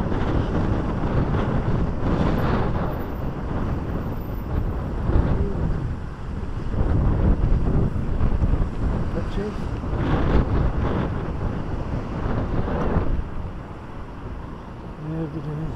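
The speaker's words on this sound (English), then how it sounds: "but it's windy. A bit windy." Strong wind buffets the microphone on the Blackpool seafront, a constant roaring rumble with gusty swells, and waves or surf may be faintly mixed into the noise.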